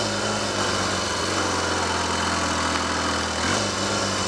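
A Triumph/Royal Enfield 'Trifield' 500 trials motorcycle engine, repaired after a broken layshaft top gear tooth, runs close by with a steady, even idle and a brief change in pitch near the end.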